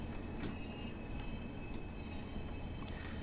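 A Pacer train in the Train Sim World 6 game rolls along the track with a continuous low rumble and a few faint, brief clicks from the rails, steady and unbroken throughout.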